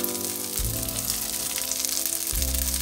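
Chopped cabbage hits a hot pan for fried cabbage, and a loud, steady sizzle fills the clip, swelling each time more cabbage drops in, with a low clatter underneath and no voices.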